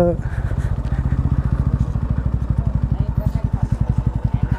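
A motorcycle being parked, its engine idling close by with a rapid, steady putter of regular beats that keeps going throughout.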